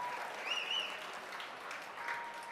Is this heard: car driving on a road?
no